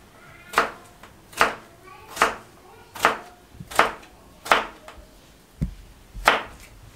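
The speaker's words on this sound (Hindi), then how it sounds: "इस तरीके से इनको लंबाई में और बारीक इस तरीके से हम काट लेंगे, जिस तरह फ्राइज होते हैं इस तरीके से।" A knife chops potatoes into thin fry-length strips on a cutting board for homemade masala french fries, with eight sharp, evenly spaced thuds close up and a short gap before the last cut.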